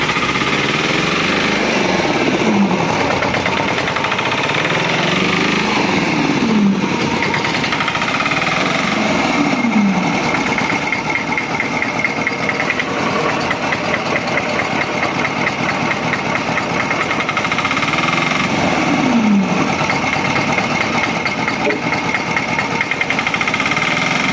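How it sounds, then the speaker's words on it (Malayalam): A loud engine-driven wood splitting machine runs continuously, chugging and knocking, with a few heavy strained surges as it works. "ഇപ്പം മെഷീനായിട്ടുണ്ട് കേട്ടോ അപ്പോൾ അത് എങ്ങനെയാണ് പൊളിക്കുന്നത് എങ്ങനെയാണ് വിറക് കൊത്തുന്നത് നമുക്ക് നോക്കാം"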